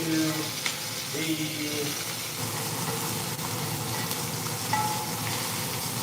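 Onions sizzling steadily as they are moved into an expensive Dutch oven, a continuous close frying hiss with light stirring scrapes and faint clinks throughout.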